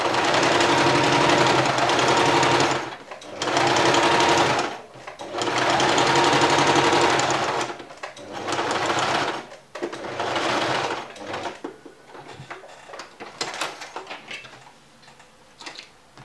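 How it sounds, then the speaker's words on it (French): Domestic sewing machine topstitching a felled seam with a wide straight stitch, loud close whirring bursts of a few seconds each separated by short pauses, then lighter clicks and handling at the end, with no talk. "Donc là, je vais venir surpiquer."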